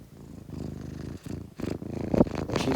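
A sleeping house cat purrs close to the microphone, a soft rhythmic rumbling that rises and falls with each breath in several cycles, quiet and alone with no speech.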